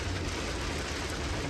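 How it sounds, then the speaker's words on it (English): Heavy wind-driven rain during a storm aboard a sailboat, a steady close hiss with low rumbling gusts underneath, no voices. "it's raining sideways"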